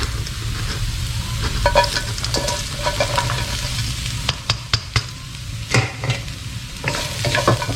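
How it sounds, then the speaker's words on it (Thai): Garlic sizzles loudly in a hot wok while a utensil scrapes and clanks against the metal in quick, irregular strokes. "ผัดกระเทียม ให้หอมนะครับ"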